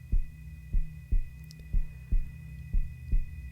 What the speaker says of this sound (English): you become aware of the sound of a heartbeat